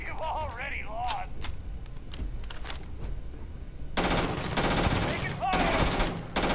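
Gunfire in the space shooter game Starfield: a dense burst of automatic fire erupts partway through and continues loudly, with a game voice and effects mixed in.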